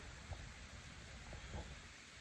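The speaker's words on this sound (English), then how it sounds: "It's a light rain." Light rain falls steadily during a deer hunt, a soft even hiss outdoors with faint patters and a few small taps, heard close and alone.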